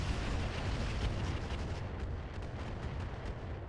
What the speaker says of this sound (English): we're just going to fire standard LRMs